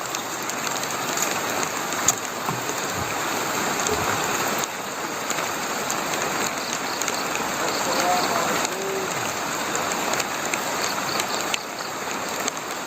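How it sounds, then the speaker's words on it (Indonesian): Steady rain falls in a broad hiss, with scattered drips and faint clicks near the mic as the group arrives at their destination; a voice murmurs now and then beneath it. "sampai sini hujan teman-teman"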